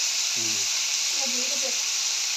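Steady hissing sizzle of eggplant frying in a pan for a dried-fish curry throughout, with brief faint voices murmuring underneath.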